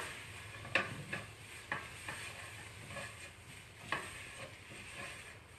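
Soft, quiet stirring of spices into a roux for green bean casserole, with a spoon scraping and tapping the pan in a few scattered clicks over a faint low sizzle, no voices.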